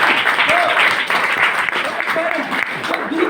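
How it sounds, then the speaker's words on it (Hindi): A crowd applauds steadily, a dense wash of clapping with voices mixed in underneath. "जोरदार ताली बजाना।"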